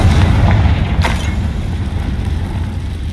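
A Confringo fire spell in Hogwarts Legacy lands as a deep, booming blast that rumbles and then fades into a low mechanical roar, with a brief crackle about a second in.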